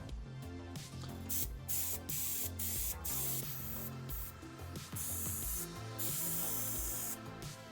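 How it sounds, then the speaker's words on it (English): Spaz Chrome paint hisses out of a spray nozzle onto a part in short bursts separated by brief gaps, a close, fairly faint airy spray with no talking. "Now we're going to go ahead and paint it with our Spaz Chrome paint."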